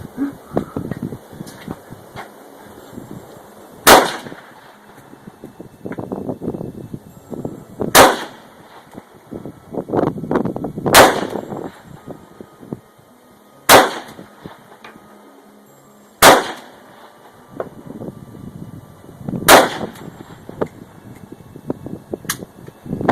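AK-47 rifle fired outdoors in six sharp, loud single shots spaced a few seconds apart, each with a quick decay, over quieter handling noise and rustling between shots.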